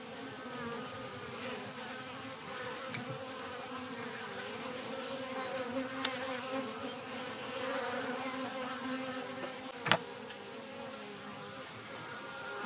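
Honeybees drone steadily across a hive frame covered with capped brood, a dense, continuous buzz close by with a few faint clicks and a brief knock near the end.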